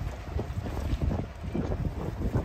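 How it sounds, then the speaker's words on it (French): Strong wind buffets a sailboat moored against a harbour quay in Turkey, a steady low rumbling roar with gusty surges throughout and no voices. "il y a le vent qui nous pousse contre le quai"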